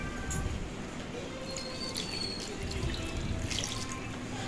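Water runs and splashes steadily into a pan for making jaggery syrup, a soft continuous trickle with faint clinks, fairly quiet and close.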